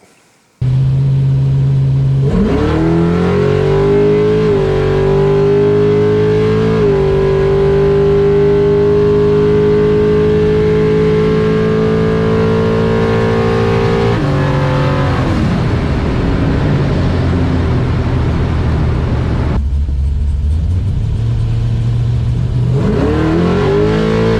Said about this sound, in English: if you're wondering what it's like to blow through your torque converter on nitrous, let me demonstrate.